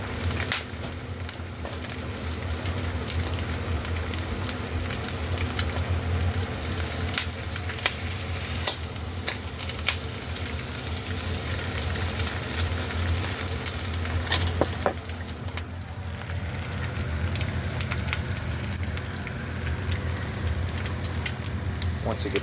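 Egg and cheese sizzling and frying in a pan for a cheese crispy, a steady crackling hiss throughout with occasional stirring or scraping, close and fairly loud.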